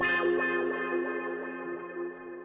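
A sustained, harmonically rich synth tone with a sweeping, filtered wah-like quality, steady and fairly loud, played alone.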